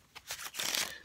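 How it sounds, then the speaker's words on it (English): A deck of playing cards is riffle-shuffled close by, a short burst of flicking snaps building to a quick rapid flutter before stopping. "I'm just going to give this one more shuffle"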